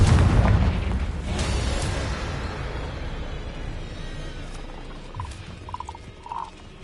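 A Confringo blasting spell in the video game Hogwarts Legacy goes off as a deep, rumbling explosion at the start. The boom fades into a long decaying tail, and a few faint magical chimes follow near the end.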